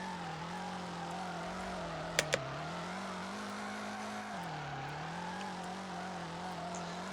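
A high-horsepower car in the FR Legends racing game drives steadily with its engine droning and revving through pitch swings, plus two brief sharp clicks midway; no talk.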